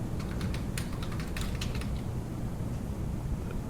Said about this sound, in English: she's busily typing